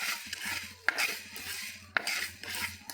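Spices such as fenugreek, black pepper and cumin being stirred while dry roasting in a pan, with a spoon scraping and clinking against the metal and two sharper knocks, close and fairly quiet.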